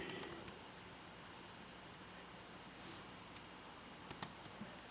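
Typing on a computer keyboard: a few faint, scattered key clicks, some in quick pairs, over a steady low hiss in a quiet room.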